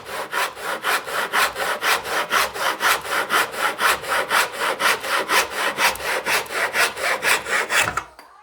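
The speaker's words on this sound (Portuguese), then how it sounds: "Estão serradas as quinas" A hand saw cuts the corners of a clamped wooden board for a tray in steady, rhythmic back-and-forth strokes, loud and close, ending abruptly just before the close.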